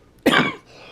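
One sharp, close cough from a man at home while he goes through fishing tackle, a single harsh burst followed by a short, rough exhale, set against quiet room tone.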